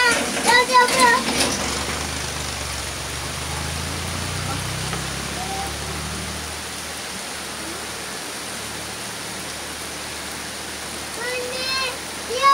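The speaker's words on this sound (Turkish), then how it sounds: "Nisan yağmuru şifadır diyorlar" Steady April rain falls in a broad, even hiss that lasts throughout, with a voice and brief chatter at the start and again near the end.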